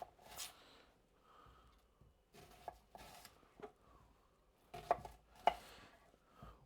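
A knife chops through a shallot on a board in a series of sharp, irregular strikes with brief pauses between bursts, close and fairly crisp, with no talking.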